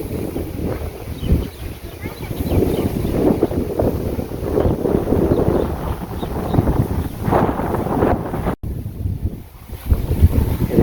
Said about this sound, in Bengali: সেই ঠান্ডা বাতাস আছে